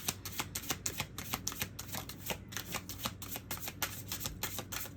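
Cards from an elemental oracle deck being shuffled, a rapid run of crisp riffling flicks in quick, close succession, with no talk over them.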